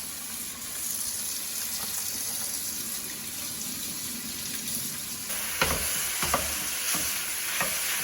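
Hands are washed under a running kitchen faucet during pasta cooking: a steady hiss of water flows for several seconds, then splashing and rubbing noises break in near the end, with no voices.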